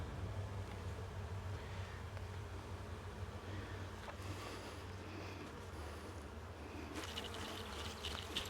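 Honey bees hum steadily around comb-filled hive frames during a hive inspection, a dense, continuous buzz close by with some brief higher-pitched whines from individual bees passing near.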